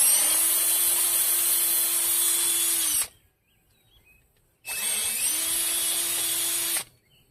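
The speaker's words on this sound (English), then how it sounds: "Got the screw gun, and I got the correct size drill bit." A power drill whirs loudly for about three seconds, pauses briefly, then runs again for another long, steady burst, enlarging rivet holes in a Bolens 38-inch tube frame mower deck, model 18418.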